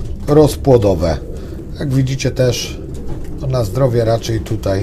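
Pigeons coo in a loft housing females, their soft repeated calls partly buried beneath someone talking continuously close by.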